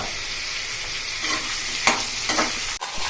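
Home-grown ivy gourd (tindora) frying and being stirred in a pan, a steady close sizzle with a few scraping stir strokes and a sharp clink near the end.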